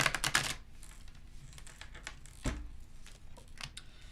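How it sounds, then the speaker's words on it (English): A deck of Dragon Tarot cards is shuffled quickly by hand, giving a burst of crisp riffling clicks followed by scattered lighter flicks and taps, close and fairly quiet. "Quick little shuffle"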